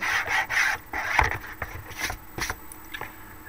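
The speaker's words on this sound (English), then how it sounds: "I just sort of went over the edges with a sanding tool just to get rid of any uneven edges." Rasping strokes of a sanding tool scrape over the edges of a folder cover in short bursts, a few passes with brief pauses between, close and fairly quiet.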